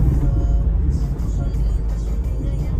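Steady low rumble of idling and creeping cars, buses and trucks stuck in an evening weekday traffic jam in India, with a brief air-brake hiss, continuous and close throughout with no talk.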